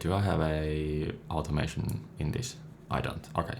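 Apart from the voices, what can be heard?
No everyday noise stands out behind the speech.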